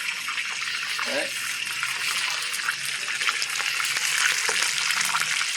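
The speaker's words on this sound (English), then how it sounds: "Frying them out on the grill." Fish fry on a grill with a continuous bright sizzle and crackle, close and steady, with occasional pops and a brief voice in the background.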